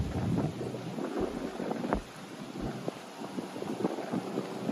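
Steady wind buffeting the microphone on the Hudson River waterfront at Battery Park City, Manhattan, a broad low rumble with gusty swells and a few sharp thumps, continuous throughout.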